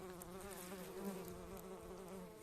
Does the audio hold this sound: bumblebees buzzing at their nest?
yes